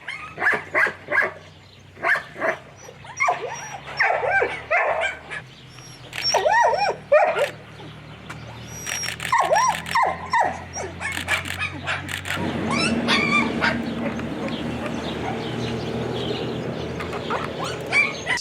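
Stray dogs at an animal shelter bark, yip and whimper in repeated close bursts, several dogs overlapping, with a busier, denser stretch of barking toward the end.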